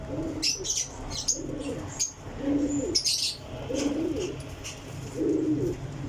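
Pigeons with black faces and crests coo in repeated low throaty phrases at a pigeon loft, with sharp chirps and faint wing flutters above them.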